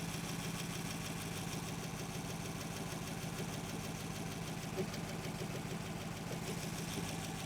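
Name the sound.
old Buick engine idling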